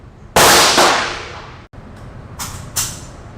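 A suppressed CZ Bren 2 5.56x45mm rifle with a Silencerco 30 cal Omega can fires on an outdoor range, two loud sharp reports with ringing decay, then fainter echoing cracks, likely more distant shots.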